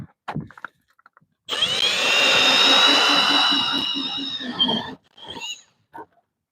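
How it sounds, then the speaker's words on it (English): A mud mixer ice auger runs for about three and a half seconds with a loud, close, steady motor whine and grinding, starting and stopping abruptly, framed by short bursts of nearby noise. "look at this brand new ice auger I got. This thing's a beast. It's called a mud mixer."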